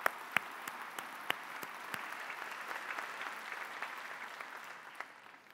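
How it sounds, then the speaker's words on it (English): Audience applause at an arts convocation for two young musicians, with a few sharp early claps swelling into moderate, steady clapping heard from a distance that gradually tapers off. "maybe another round of applause for those two wonderful young musicians"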